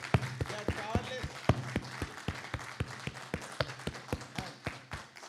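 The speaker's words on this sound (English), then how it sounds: "Big clap. Big clap." A conference audience claps in a steady, even rhythm of sharp, evenly spaced beats during a felicitation, while voices talk underneath.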